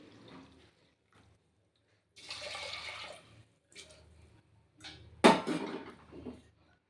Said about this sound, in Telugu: వీటికి ఒకటికి 6 గ్లాసుల నీళ్ళు పోసుకుందాము